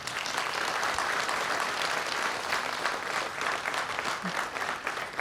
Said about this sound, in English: So I would ask that you give them an extra round of applause.